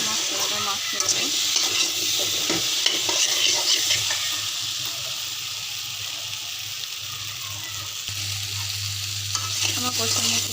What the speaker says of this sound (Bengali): আমি সুন্দর করে ভাজিয়ে ভেজে নেব।